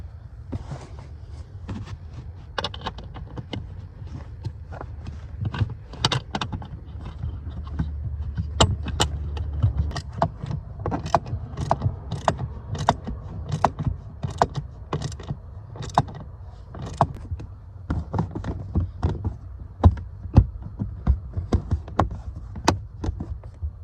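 Bolts go back in on a Scion FR-S, Subaru BRZ or Toyota 86, with a steady run of quick metallic clicks and ratcheting taps, close and moderately loud, over a low background hum.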